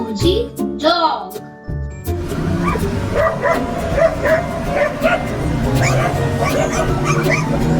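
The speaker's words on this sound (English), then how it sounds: "Dog. D-O-G, dog." A dog barking and yipping, with quick bursts of barks and whimpers over a busy background, following a spoken word at the start.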